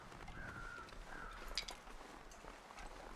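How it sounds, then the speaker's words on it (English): A few distant crow caws ring out over a low, steady outdoor background in the video game The Long Dark, faint and spaced apart, with no one speaking. "I hear crows."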